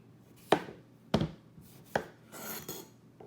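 A Japanese chef knife slices through a cucumber on a cutting board, giving four crisp, separate chops spaced about half a second apart, close and fairly loud with no talking.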